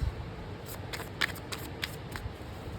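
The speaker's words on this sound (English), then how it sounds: "I am being drawn to shuffle and take out the top 3 cards" Tarot cards are shuffled close by in several quick riffling bursts with soft papery flicks, and no one speaks.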